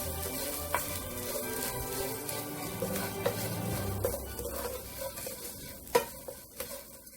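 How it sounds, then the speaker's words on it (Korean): Anchovies and chili peppers stir-fried in oil in a pan, a steady close sizzle with repeated scraping stirs and a few sharper clinks of a utensil against the pan. "팬에 기름을 두르고 고추를 볶아주세요. 멸치도 넣고 같이 볶아주세요."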